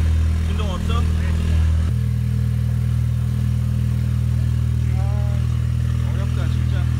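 An Audi TT coupe engine, muffler not yet fitted, idles with a steady low rumble throughout, while people talk over it nearby.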